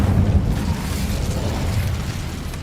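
A Hogwarts Legacy Incendio fire spell bursts into a dense, rumbling explosion, a loud low roar that decays steadily over a couple of seconds with no talking.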